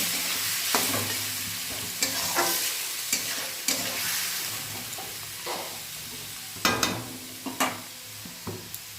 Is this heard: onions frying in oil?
yes